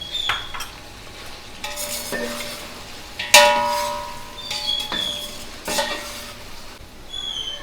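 Chicken with ginger garlic paste sizzles softly in a pan while a metal utensil scrapes and clanks against it in intermittent stirring strokes.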